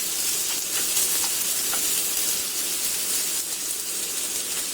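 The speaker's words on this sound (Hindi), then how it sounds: "और इसको हम थोड़ी देर सौटे कर लेंगे." Food sautéing in a pan over a medium flame for a Kerala appam meal gives a steady, close, broadband sizzle and hiss throughout with no pauses.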